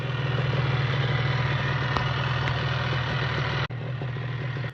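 A 1988–1992 Kawasaki KR1S 250 two-stroke sport motorcycle idles steadily and close, its loud, even buzzing hum holding nearly constant before a brief dropout and a return to the same idle.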